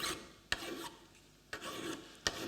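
A hand file rasps across a steel layout knife in short, separate strokes, about four of them, each one close and scratchy, with no voices.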